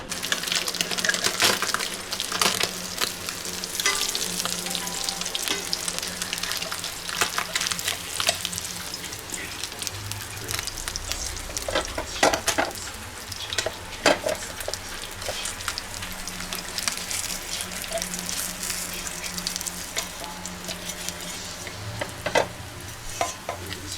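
Mussels cooking in oil with sauce while being stirred in a pan, giving a steady close sizzle with scraping stirs and occasional clinks and splashes throughout.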